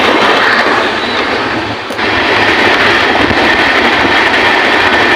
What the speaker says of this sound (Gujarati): મુંબઈની ટ્રેન જાય છે જો